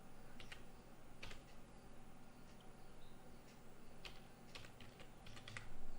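Computer keyboard typing while working in AutoCAD, quick clusters of light key clicks with short pauses, close and fairly quiet over a faint steady hum.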